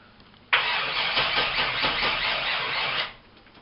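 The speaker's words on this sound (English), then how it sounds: "You're going to hear some sounds you never heard on this video, like the engine actually turning over." A drag-prepped Monte Carlo's engine cranks over on a weak starter, a loud continuous whirring churn lasting about two and a half seconds before cutting off.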